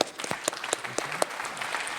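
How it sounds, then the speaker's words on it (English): An awards-event audience claps in a short, crisp round, individual hand strikes distinct and close, fairly loud and even. "One more round of applause for..."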